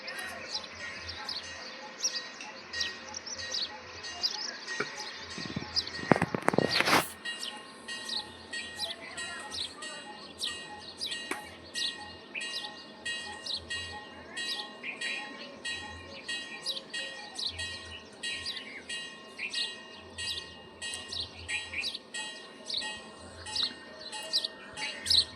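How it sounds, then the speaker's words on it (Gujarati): Small birds chirp in quick repeated tweets at a parent bird feeding its chick outdoors near a temple campsite, fairly faint against a low background hum, with one brief loud burst partway through. "આ પક્ષી એનું બચ્ચું લઈને આવ્યું છે, એના બચ્ચાને ખવડાવે છે."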